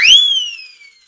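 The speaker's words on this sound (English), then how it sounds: "The mouth siren." A mouth siren whistle, a toy noisemaker, blown once: a loud rising wail that peaks quickly and then slides slowly downward and fades over about a second, heard alone.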